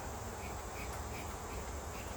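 Honey bees hum steadily around a frame pulled from a hive during an inspection, a dense, faint, continuous buzz close by with no voices.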